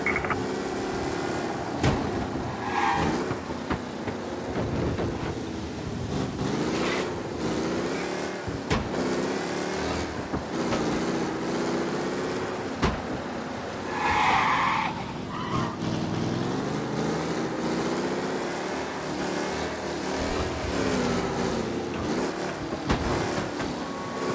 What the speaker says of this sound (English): We don't need officers reporting a race car driving at speed through the city.